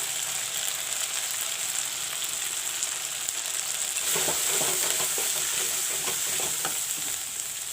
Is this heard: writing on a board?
no